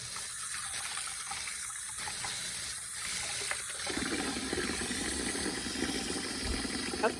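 A Breville 3X Bluicer's juicer filter is rinsed under a running tap, a soft steady stream of water that turns fuller and splashier partway through as it hits the part.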